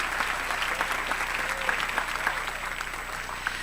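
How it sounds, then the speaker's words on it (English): Audience applause fills a high school graduation ceremony hall, steady and dense for several seconds, a broad crowd clapping with no voices over it. "Please join me in a round of applause for Danielle J."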